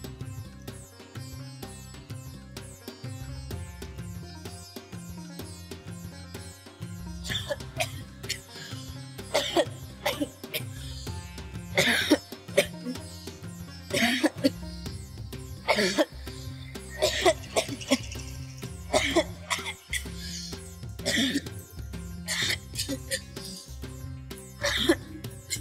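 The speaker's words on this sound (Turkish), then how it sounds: "Öksürdüğünü duydum." Repeated coughing from a man in a Turkish TV drama scene, several harsh bursts spread across the clip over a background of music.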